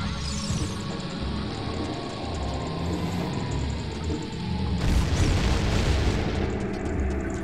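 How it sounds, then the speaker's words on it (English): Bombs explode in The Legend of Zelda: Ocarina of Time, a loud rumbling blast followed by a second heavier boom partway through, over a steady game background. "Explosions."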